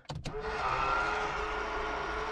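Power side mirrors on a budget off-road car fold in at the press of a button. A couple of quick clicks lead into a steady electric motor whir that holds for about two seconds, close and fairly quiet.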